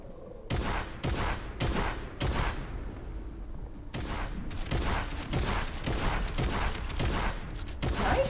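Gunshots in the video game Fortnite ring out in a steady series of sharp, loud bursts, some singly and some in rapid clusters, continuing for several seconds with no talking.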